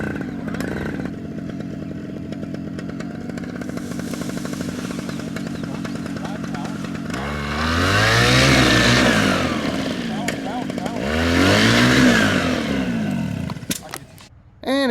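A paramotor engine catches and runs with a rough, buzzing drone that surges loudly twice, in the style of a small two-stroke, and cuts off abruptly near the end. A voice talks faintly over it.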